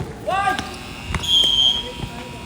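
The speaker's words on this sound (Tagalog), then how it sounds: "And there goes the buzzer." A basketball game-end buzzer sounds in a gym during a league game, a sustained tone lasting about half a second, with ball bounces thudding nearby and squeaks before it.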